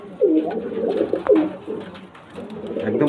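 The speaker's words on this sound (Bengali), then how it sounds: "তো আমি পায়রা দুটোকে ছেড়ে সব করাচ্ছি ফ্রেন্ডস।" Pigeons for sale coo in repeated soft throaty bursts close by, a few calls overlapping in a steady rhythm with no talk.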